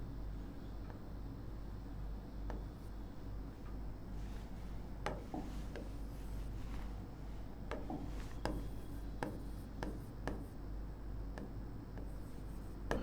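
Chalk or marker writing on a board during a classroom lesson, with repeated short scratchy strokes and taps spread through the clip over a steady low background hum.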